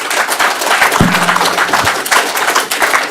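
Audience applause at the close of a community meeting on UK transport policy, a steady wash of clapping filling the room for about three seconds, with a few louder individual claps standing out.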